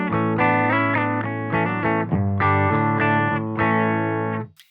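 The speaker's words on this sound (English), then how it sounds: "So the bass guitar sounds like this." Bass guitar played through an Equinox EQ pedal on a guitar-warmer setting, with slightly cut 3k and boosted 100 Hz: a sustained, distorted and chorused riff of several held notes and slides, loud and up close, with no talking.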